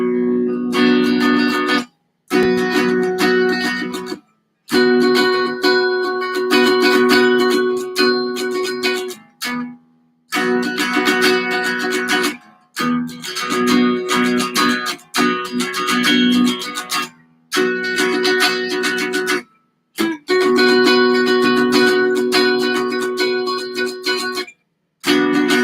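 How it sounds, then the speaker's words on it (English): Intermediate practice guitar playing inside chords, a series of strummed harmonic chord phrases separated by brief silent gaps, close and steady, no voices. "Now the inside chords that sound something like this right here."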